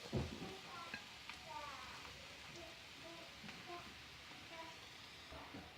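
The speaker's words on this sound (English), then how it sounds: "And fry the onions until they turn light brown in color." Chopped onions fry in a pan for a spiced potato masala, a soft steady sizzle with small crackles and a few light stirring scrapes, fairly quiet and close.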